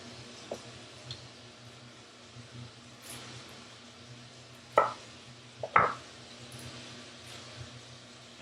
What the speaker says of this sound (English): now what we're gonna do is we're gonna cut the garlic